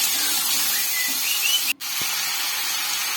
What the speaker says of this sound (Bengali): দুটো বড় সাইজের আলুকে কুচিয়ে নিয়েছি এর মধ্যে দিয়ে দিলাম